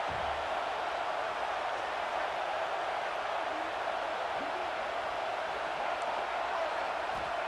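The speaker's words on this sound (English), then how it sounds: "Man, this crowd really affecting the football game." Steady crowd roar from a home stadium crowd in an American football video game, a dense, continuous wash of cheering noise at even loudness throughout, with no clear talk on top.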